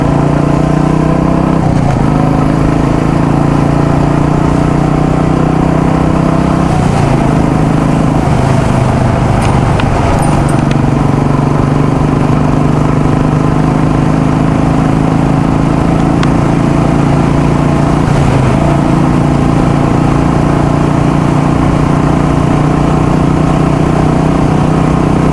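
A Royal Enfield Classic 350 motorcycle engine runs loud and close with a deep thumping exhaust, rising in several rev surges over a steady idle on an open road.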